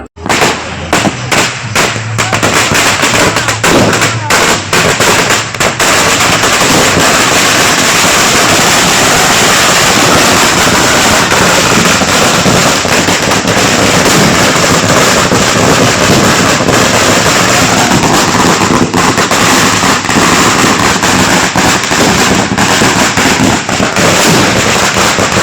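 Firecrackers burst at a wedding procession arriving at the bride's house, loud rapid crackling volleys that run almost without pause, dense and continuous throughout.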